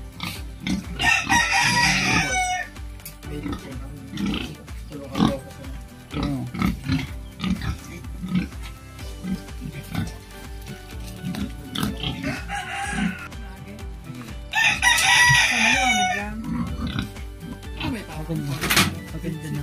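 Pigs grunt and squeal on a piggery farm while chickens cluck and roosters crow loudly in bursts, all close and continuous, with people talking over the animals.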